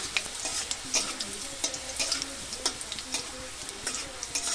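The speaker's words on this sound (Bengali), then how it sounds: "রসুনটা আগে ভেজে নেব, তাহলে সেন্টটা অনেক ভালো হবে" Crushed garlic fries in hot oil, a busy crackling sizzle punctuated by sharp utensil taps and stirring clicks, close and alone.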